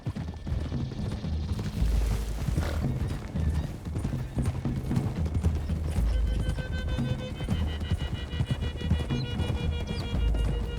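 Several horses gallop together through hilly terrain in Red Dead Redemption 2, a continuous rapid patter of hoofbeats with an occasional whinny, steady and fairly close throughout.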